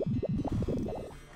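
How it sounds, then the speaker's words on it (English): A distorted, guttural growling and groaning with warbling tones as Vincent transforms into a monster in Final Fantasy VII, loud at first and then slowly fading. "It's Vincent turning into the monster."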